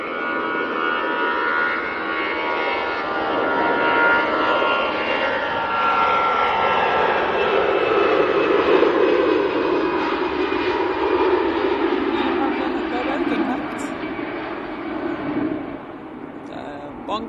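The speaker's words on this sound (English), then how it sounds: "The Brussels Airlines going back to Brussels" A Brussels Airlines jet airliner departing for Brussels roars steadily and loudly throughout, its engine noise sweeping gradually lower in pitch as it passes, with a voice speaking faintly beneath it.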